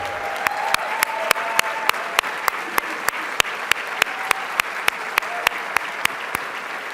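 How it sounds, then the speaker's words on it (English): Applause for newly elected mayors at the opening plenary of a winter meeting, a broad wash of crowd clapping with one sharp, regular close clap cutting through at a steady beat. "let's give our new mayors a round of applause"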